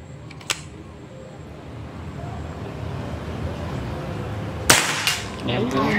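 Over low ambient hum, a faint click comes early, then one sharp, nearby PCP air rifle crack rings out with a brief clatter after it.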